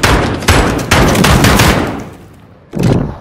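Gunfire punches through a wall in Call of Duty Modern Warfare on PlayStation 4: loud, close bursts of rapid shots in quick clusters, a brief lull, then another heavy burst, with no voices.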